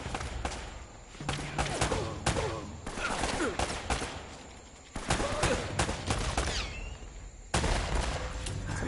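Gunfire in the video game Uncharted, bursts of rapid shots and single cracks fired in clusters with short gaps, loud and close, mixed with a faint voice at times.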